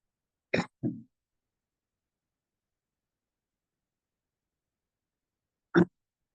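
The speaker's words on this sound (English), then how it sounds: "I'm just coughing." Two quick coughs close together, then silence, then another single cough several seconds later.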